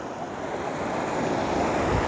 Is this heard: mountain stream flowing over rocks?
yes